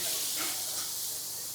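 Tomatoes sauté in a pan for a street-style egg dish, producing a steady, even hiss of frying with no distinct stirring strokes.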